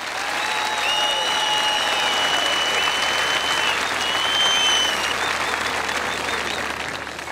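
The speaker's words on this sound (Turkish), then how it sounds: "Hadi alkışlayalım onu coşkuyla." A large concert crowd at a solidarity concert applauds steadily and loudly for several seconds, a dense wash of clapping with a few faint whistles, fading slightly at the end.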